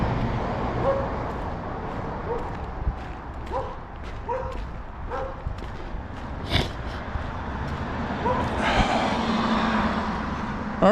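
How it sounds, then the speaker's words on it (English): A dog barks in a few sharp, separate yaps on an outdoor walk, moderately near, over steady wind and traffic noise, with no talk. "The dog wants to kill me."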